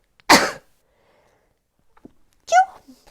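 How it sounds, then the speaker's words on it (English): A single sharp sneeze bursts out close by, followed by quiet breathing and a short voiced sound afterward. "I am going to sneeze"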